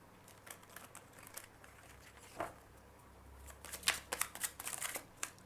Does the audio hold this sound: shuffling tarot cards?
yes